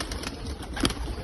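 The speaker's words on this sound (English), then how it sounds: "I have here Pakistan's pigeons." Pakistani pigeons give a single soft, brief coo against a steady background hum.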